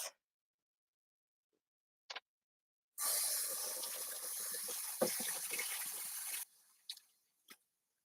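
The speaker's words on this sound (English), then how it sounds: "Now I'm gonna wash these white buttons." White button mushrooms rinsed under a running tap for about three and a half seconds, a steady close rush of water with squishy handling, framed by a few brief clicks and drips before and after.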